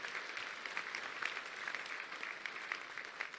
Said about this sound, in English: let's give a big round of applause for Clark Feister here